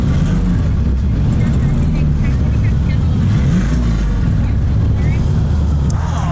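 Engine of a car at a Mecum auction running and revving steadily as the throttle is held open, a loud continuous low rumble throughout with people talking over it.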